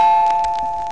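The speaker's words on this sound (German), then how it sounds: "Es klingelt." A doorbell rings once in a 1977 German radio play, a bright steady chime that sounds clearly and then fades slowly, with nothing else over it.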